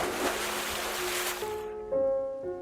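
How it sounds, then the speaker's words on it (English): A creature leaping over a bent guardrail into swamp water makes a loud, broad splashing wash that fades quickly, giving way to low sustained musical tones. "It leaped over the side with a loud splash"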